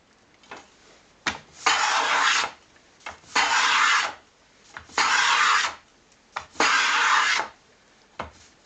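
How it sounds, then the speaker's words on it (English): Four long rasping wood-shaving strokes from a No. 5.5 hand plane on a shooting board, evenly spaced, each a bright hissing swish, with quieter clicks and taps between passes. "The old wooden plane is not taking off a coarse enough shaving, really."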